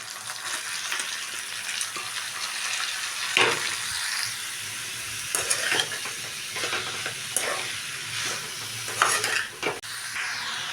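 Chopped ash gourd and potatoes sizzle in a hot pan, a continuous frying hiss punctuated by irregular scrapes and clatters of stirring, close by and fairly quiet, with no speech.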